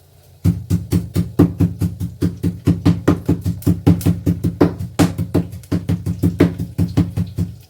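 Curry leaves and stalks are crushed for cooking in a roadside kitchen with a steady run of dull, rhythmic pounding thuds. About three beats a second, loud and close, with a brief pause partway and no speech.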